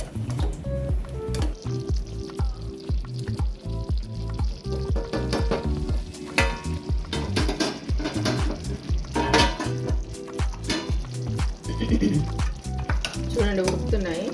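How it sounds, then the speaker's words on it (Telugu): Stuffed brinjal curry bubbles and sizzles in a pot while a spoon stirs it, with constant frying crackle, rhythmic scraping and occasional metallic clinks from the cookware. "చూడండి ఉడుకుతున్నాయి."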